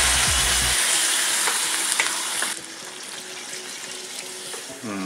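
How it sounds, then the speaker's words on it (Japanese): Tap water gushes loudly into a cooking pot for boiling squid, then drops to a softer, steadier pour with faint clinks, and no voices are heard. "でお水を入れます。"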